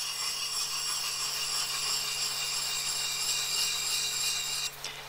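Scrub plane blade rubbed back and forth on a sharpening stone, a steady continuous rasping scrape that holds level for nearly five seconds and then cuts off abruptly near the end, with no talk.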